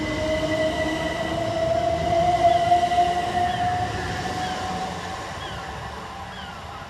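Southern Railway class 377 electric unit at Angmering station, a steady rumble of wheels on rail with a sustained tonal whine rising then fading as it moves away.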